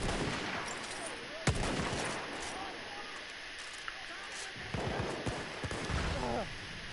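Sporadic gunfire from the Battlefield 1 video game, with a few sharp shots standing out over dense battle noise and players talking.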